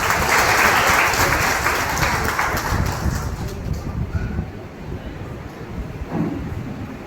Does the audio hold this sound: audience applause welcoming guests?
yes